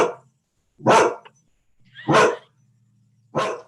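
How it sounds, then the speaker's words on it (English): A dog barks three times in loud, separate bursts with short silent gaps, close by, with a faint low hum underneath. "Why are you barking? There's no reason."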